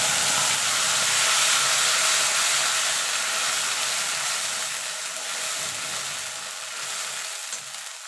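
Green chili, tomato and ginger paste sizzles steadily in a hot pan for a Bengali niramish aloo dum, a loud continuous frying hiss that eases slightly toward the end.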